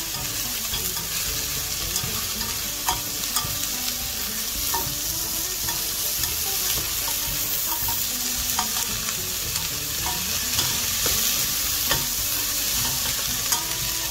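Sliced vegetables sizzling in a pan while being stirred, a steady bright frying hiss with scattered scraping and clicking of the utensil against the pan, close and continuous, with no voices.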